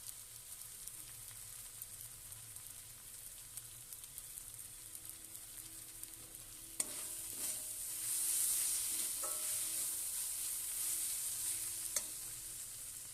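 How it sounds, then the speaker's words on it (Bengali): Paneer butter masala base with ginger-garlic paste sizzling and frying in a pan as Kashmiri chilli powder goes in, a steady hiss that swells midway with several sharp stirring knocks of a utensil, close and without speech. "এবার এটাকে ভালো করে ভেজে নেব। এবারে দিয়ে দেবো অল্প একটু কাশ্মীরি গুঁড়ো লঙ্কা।"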